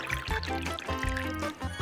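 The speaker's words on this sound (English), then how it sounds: "Now we pour the water." Water poured over candies laid out in rainbow order, a steady splashing pour lasting a couple of seconds with a faint voice in the background.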